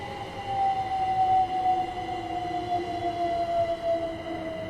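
An electric London commuter train bound for Gatwick slows in Train Sim World 2, its motor whine gliding steadily downward in pitch over a low rumbling hum, steady and close with no talking.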